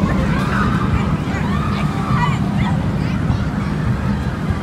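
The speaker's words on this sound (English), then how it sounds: "Here's some geese." Several geese honk in short nasal calls over a dense outdoor background of rumble and murmuring voices at Canada's Wonderland amusement park.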